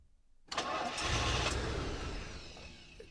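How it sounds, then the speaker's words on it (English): A car engine cranks with a sudden loud catch, then churns and rumbles steadily for a couple of seconds before trailing off. It plays alone, with no voices. "Oh, car won't start."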